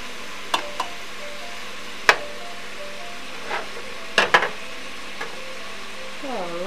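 Food frying in oil is stirred with a utensil, giving a steady soft sizzle broken by a few sharp scrapes and clinks against the pan at scattered moments.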